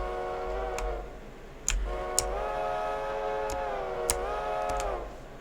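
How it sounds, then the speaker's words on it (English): A locomotive whistle, engine number 382, blows several long multi-tone blasts with short gaps between them over a low rumbling background, with a few sharp clanks mixed in. "definitely a decent whistle that we have for this locomotive."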